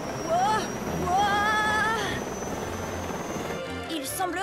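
Matchbox toy helicopter with a steady whirring rotor drone, moderately loud and continuous, playing under animated French narration with whistling cartoon sound effects.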